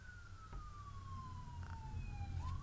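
A distant police siren wails with a slowly falling tone over steady low traffic rumble, faint and far off.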